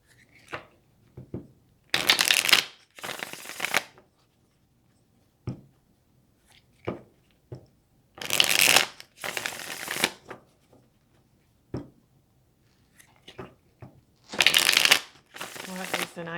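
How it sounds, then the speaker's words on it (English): Tarot cards being shuffled close up in repeated riffling bursts of a second or two each, separated by quiet gaps with light taps and card handling. "I'm going to pull some more cards."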